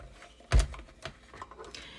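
Small portable die-cutting machine feeding paper through its rollers, giving a sharp crack followed by a few fainter ticks and clicks close by.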